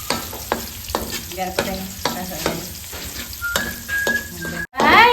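Garlic frying in a pan, a steady sizzle with stirring scrapes running throughout, close and fairly loud, with a brief quiet gap near the end before the sizzle returns.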